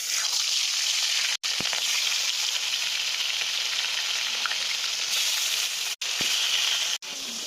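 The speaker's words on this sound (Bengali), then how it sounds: "মাছ ভাজা হতে থাক" Tilapia pieces frying in hot oil in a pan, a loud, continuous close sizzle with a few brief sharp breaks and small spatters.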